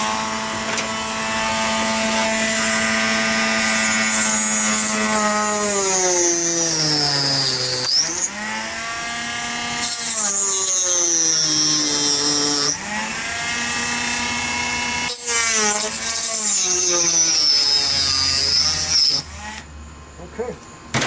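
Close by, a rotary tool fitted with a metal cutting wheel and slowed to about 15,000 RPM whines as it cuts bamboo for a model airplane. Its pitch sags under load and recovers across several passes, with short breaks between cuts.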